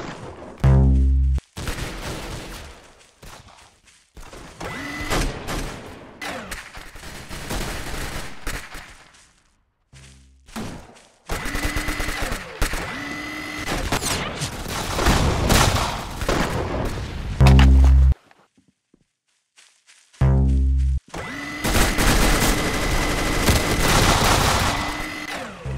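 A minigun in the video game Arsenal fires in long continuous bursts, loud and dense, separated by short silent gaps, with booming impacts mixed into the rapid fire.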